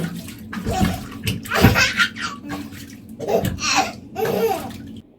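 A baby girl squeals and laughs happily in her bath, with bursts of high excited cries close by over the soft wash of bathwater.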